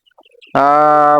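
A farm chicken lets out a single loud, drawn-out tonal call at close range, preceded by faint scattered chirps.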